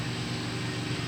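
Moss (CEC) Heirloom Olympus 52-inch ceiling fan on a solid-state control, giving off a faint, even, continuous hum with a low droning tone.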